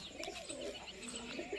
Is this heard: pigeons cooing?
yes